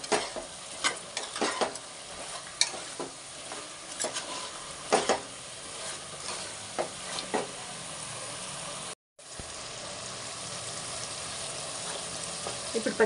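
Chicken curry in a pressure cooker is stirred with a spoon, bringing scattered scrapes and clinks against the metal over a soft sizzle, close and fairly quiet with a brief break partway.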